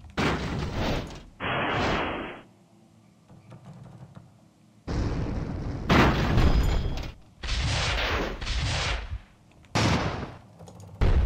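Rockets fire in bursts in the airship battle game Airships: Conquer the Skies: several loud, rushing, explosive blasts separated by brief lulls, strongest near the middle and end.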